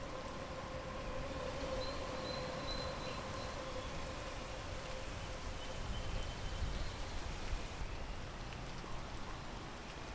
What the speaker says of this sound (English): enough of these calming rain sounds that have been going on for 3 minutes